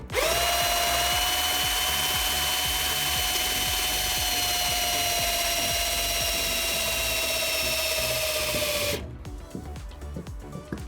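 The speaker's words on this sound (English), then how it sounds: "what we need to do is screw towards the edge" A power drill drives a screw into a wooden landscaping sleeper near its edge, giving a loud, steady, high motor whine for about nine seconds that cuts off abruptly, followed by quieter handling noises.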